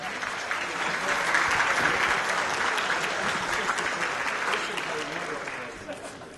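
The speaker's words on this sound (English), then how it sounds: "so let's give her a big round of applause." A large room of listeners gives a big round of applause to Sister Helen Prejean, the clapping swelling quickly, holding strong, then tapering off toward the end.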